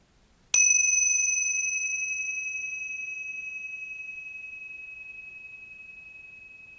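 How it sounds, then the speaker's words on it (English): A single clear bell strike rings out after a brief silence, its pure tone sustaining and slowly fading over several seconds. "at the sound of the bell, coming back"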